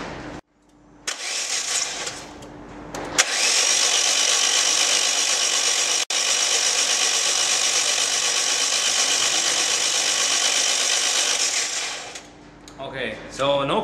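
A starter motor whirs steadily for several seconds as a car engine with no compression cranks without catching, loud and close, with a brief break partway through.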